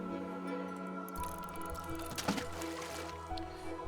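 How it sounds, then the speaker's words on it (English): Water is drawn up from a well in the video game Book of Hours: soft sloshing, dripping and splashing over a quiet, sustained musical backdrop, faint overall. "we could just draw up some more from the well"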